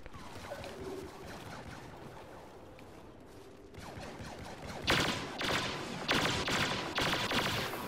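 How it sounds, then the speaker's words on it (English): Rapid turret fire in a Star Wars video game, a loud burst of repeated blasts starting partway through after a stretch of busier game noise, with shots coming in several quick clusters. "Turret."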